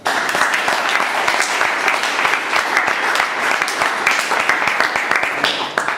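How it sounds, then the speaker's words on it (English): An audience at a Toastmasters club session applauds in a dense, steady burst of clapping that carries on for several seconds, close and loud, with no talk over it. "Could you please give him a round of applause?"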